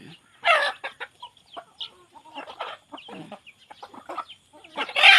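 Hens cluck and squawk in a run of short, uneven bursts, close by and fairly loud, with a sharper cackle building at the end; an old hen with her chicks is among the birds.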